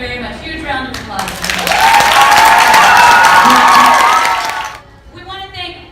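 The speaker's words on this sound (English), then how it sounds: "Huge round of applause." Sustained applause from a crowd at a school Black History Month assembly swells to a full, loud roar with some cheering, then fades as a voice speaks briefly before and after.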